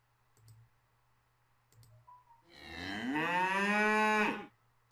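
A single long cow moo sounds from a coloring video game, clear and loud, after a couple of soft clicks and with no talking over it.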